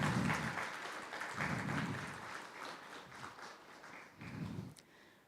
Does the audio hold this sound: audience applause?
yes